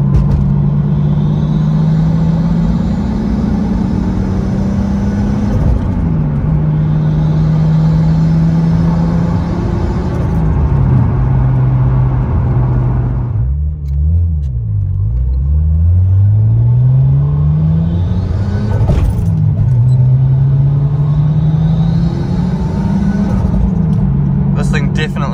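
A 13B rotary-engined E36 driving after an oil cooler upgrade, its loud buzzing engine droning steadily and rising and falling through gear changes for the whole stretch, with occasional speech underneath.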